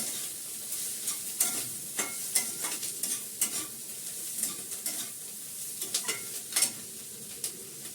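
Food fries in a little oil in a pan with a soft, steady sizzle. Irregular scrapes and clicks of a spatula stirring and turning it punctuate the sizzle, all fairly quiet and close; no voices.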